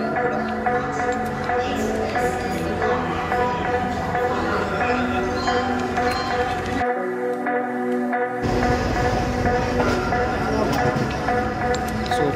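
Vande Bharat train pulling out of Kacheguda station, with a steady rumble of wheels on rails and a low, continuous clatter that drops out briefly partway through, all heard from inside the carriage.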